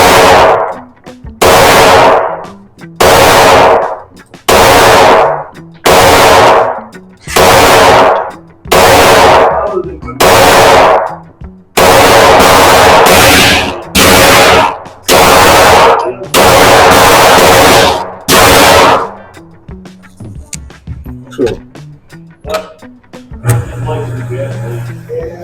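A Glock 34 pistol fires at a target in a rapid string of about a dozen very loud, close, sharp shots. The shots come in quick even succession before giving way to quieter handling noises and faint background sound.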